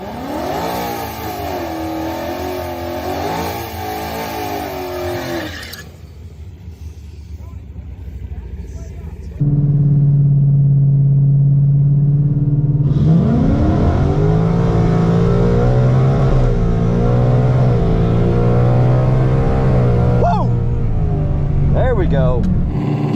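A 2022 Ford Mustang races on a drag strip, its engine idling loudly before revving hard and pulling away through rising gear changes, close and continuous, with a voice talking over it.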